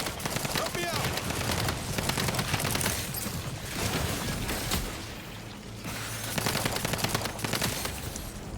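Rapid bursts of gunfire from a weapon in the video game The Outer Worlds 2, loud repeated volleys in clusters with short pauses between them, and a player speaking over them at times.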